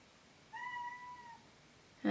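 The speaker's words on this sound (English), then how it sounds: "And there goes my cat." A house cat gives a single drawn-out meow, soft and fairly close in a quiet room, followed by a sharp brief knock at the very end.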